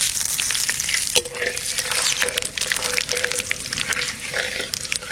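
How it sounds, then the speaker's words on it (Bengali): Dry red chilli, cumin and bay leaf sizzling hard in hot oil for a Bengali fish and cauliflower curry, a loud, close, continuous crackle with occasional stirring clinks. "এখন ফোড়নে দেবো শুকনো লঙ্কা,"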